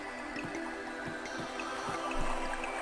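Trickling stream water in the video game Grandia, a steady soft babble with light drips and gurgles running throughout at a moderate, even level.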